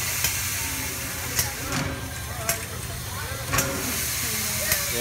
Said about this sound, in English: Filling up water, producing steam,